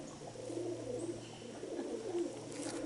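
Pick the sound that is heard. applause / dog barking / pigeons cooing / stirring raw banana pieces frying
pigeons cooing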